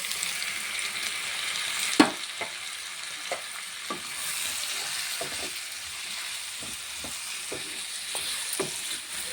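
A potato curry fries in a pan with a continuous, even sizzle, broken by a sharp utensil knock and repeated light stirring scrapes, close and with no talking.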